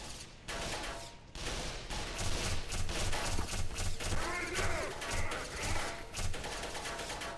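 Enemy soldiers in Black Mesa fire on the player in rapid, irregular bursts of gunfire, with sharp repeated cracks over a busy, noisy background for several seconds.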